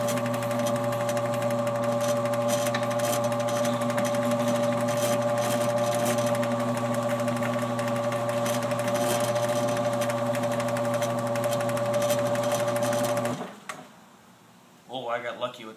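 An old Lift-Master 1000 garage door opener runs with a steady loud mechanical hum and drone close by, then cuts off abruptly near the end, followed by a few clanks.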